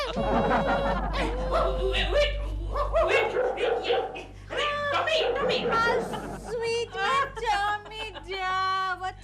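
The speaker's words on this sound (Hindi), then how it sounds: "ओए, किसकी आवाज आ रही है? सपना का कुत्ता।" A small dog barks and yips repeatedly in short, high bursts, fairly close and loud, over a low steady hum and a comic Hindi TV sketch soundtrack.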